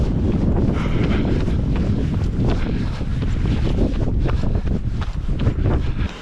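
Strong wind buffets the microphone without a break, a loud, steady roar heard outdoors beside open water with boats.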